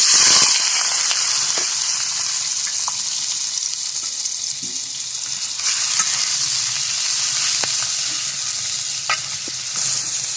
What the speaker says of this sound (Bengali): এখানে কড়াইতে তেল গরম হচ্ছে, আমরা কেটে রাখা পেঁয়াজগুলো দিয়ে দেবো